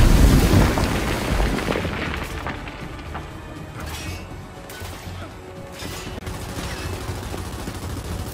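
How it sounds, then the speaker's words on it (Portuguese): A frag grenade blast in the video game Gears 5 booms loudly at the start, followed by a rumbling tail and scattered bursts of gunfire and impacts in a chaotic firefight. "Lançando granada de fragmentação!"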